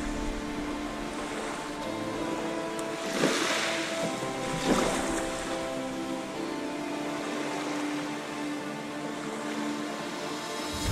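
Waves breaking along a flat sandy beach near Walcott, a steady roar of surf with two louder surges of crashing water standing out amid continuous wash and wind.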